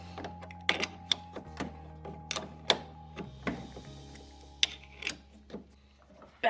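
A wrench loosens the track adjuster bolts on a snowmobile, sounding as a series of sharp metallic clicks and ratcheting taps at irregular intervals over a low mechanical hum, close up.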